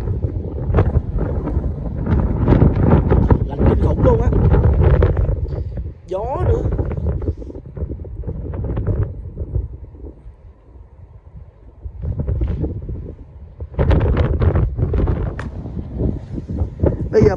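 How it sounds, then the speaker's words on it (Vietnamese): Gusting wind buffets the microphone on a cold, windy day at a high city lookout in Croydon, rumbling in loud surges that drop away briefly, with people talking at times. "hôm nay là một ngày trời gió rất là lạnh"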